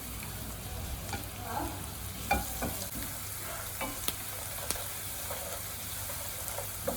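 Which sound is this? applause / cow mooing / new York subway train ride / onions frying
onions frying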